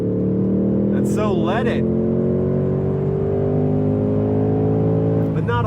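A 2024 Ford Mustang GT with a manual gearbox and naturally aspirated engine revs steadily while driving, its rising, sustained engine note loud and continuous throughout, with someone talking briefly over it.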